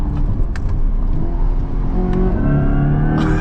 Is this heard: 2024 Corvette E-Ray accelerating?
yes